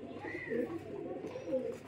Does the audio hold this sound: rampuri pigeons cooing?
yes